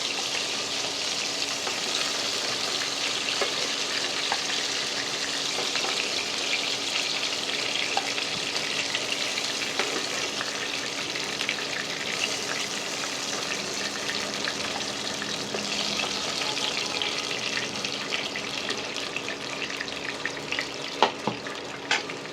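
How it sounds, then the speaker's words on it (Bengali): Nigella seeds and four green chillies frying in oil for a rohu fish curry make a steady, dense crackling sizzle. It holds at an even level throughout, close and alone, with a few sharper pops near the end. "এর মধ্যে কালো জিরে ফোড়ন দিলাম, আর কাঁচা লঙ্কা 4টে ফোড়ন দিলাম।"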